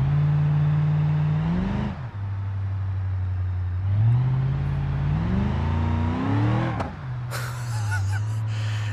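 A twin-supercharged Jeep engine in the BeamNG.Drive video game revs in loud, close rising and falling sweeps, with blower whine, dropping back to idle between revs.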